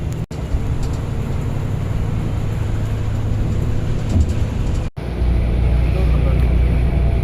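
An SETC Volvo 9600 bus cruises on a highway between Salem and Chennai, its engine and road noise forming a loud, steady rumble with two brief dropouts, heard from inside the bus.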